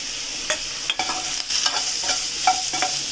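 Ridge gourd and tamarind sauté in a teaspoon of oil, with a steady sizzle broken by repeated scraping stirs of a spatula in the pan, close and clear with no speech.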